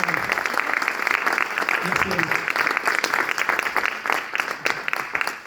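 Audience applause at a presentation event about a trip to Madagascar, a steady dense patter of clapping heard under a voice speaking briefly.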